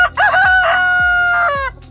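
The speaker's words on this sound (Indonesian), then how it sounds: "saya kasih sound ayam berkokok untuk menandakan kalau ini sudah berganti hari" A rooster crows three times in quick succession, a loud, close cock-a-doodle-doo with strong harmonic calls, added as a sound effect over short-film footage shot on a phone.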